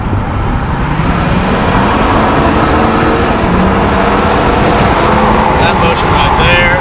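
A diesel truck engine rumbles loudly and steadily at low revs close by, with a throttle rise that fits a quick double stomp; someone talks over the engine noise.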